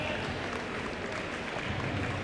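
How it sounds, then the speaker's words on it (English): An audience at an athletics banquet applauds the school's bowling team, giving dense, steady clapping that fills the room for the whole stretch. "They're clapping."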